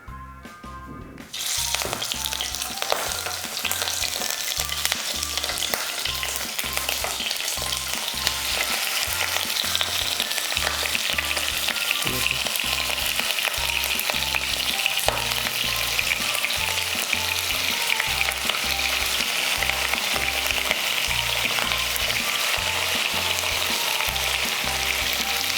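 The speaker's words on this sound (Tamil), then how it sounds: "எண்ணெய் சூடானதுக்கப்புறம் நம்ம எடுத்து வச்சுருக்க சிக்கனை இதில் போட்டு கொஞ்சம் பொரிச்சு வச்சுக்கலாம்" Chicken pieces hit hot oil in a pan and erupt into a loud, continuous sizzle that stays close and steady throughout, with a regular undercurrent of stirring strokes.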